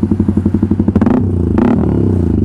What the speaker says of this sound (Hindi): तो यार इसका मैं आपको एक बार एग्जॉस्ट नोट सुना देता हूँ।